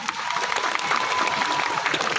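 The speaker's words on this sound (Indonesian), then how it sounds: "Tepuk tangan dulu." Audience applause from a congregation at an Islamic boarding school sermon, a steady wash of clapping held for a couple of seconds at moderate level.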